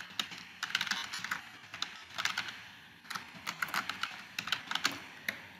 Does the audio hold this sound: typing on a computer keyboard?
yes